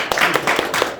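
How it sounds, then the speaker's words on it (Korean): An audience bursts into applause for the academic society president at the opening ceremony of a regional development association's winter conference, with dense steady clapping that fills the hall throughout. "우리 조덕호 회장님께 박수 한번 보내십시오"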